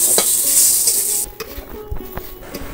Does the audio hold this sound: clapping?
no